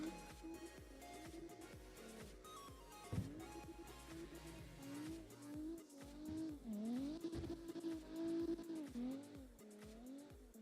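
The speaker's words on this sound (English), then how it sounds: "I wish they made more cars that use this engine sound." A racing car engine in a video game revs and shifts through gears while drifting, its pitch climbing and falling, with tires squealing through turns.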